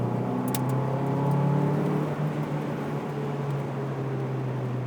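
A 2001 Lotus Elise with a 1.8 engine pulls hard while driving, its steady engine drone rising under acceleration, close and loud inside the cabin with constant road noise and no talking.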